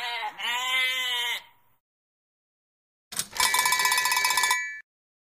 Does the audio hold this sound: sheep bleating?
yes